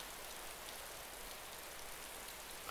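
Steady rain falls continuously in the video game DayZ, a soft even hiss of many drops with no other sounds.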